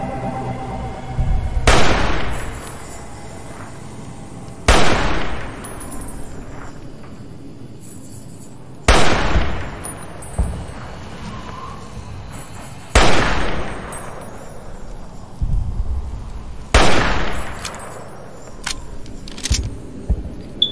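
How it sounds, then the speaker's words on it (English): Five loud sniper rifle shots in Fallout New Vegas ring out a few seconds apart, each a sharp crack with a long decaying echo tail, with no voices over them. "I'm using the basic fucking sniper rifle"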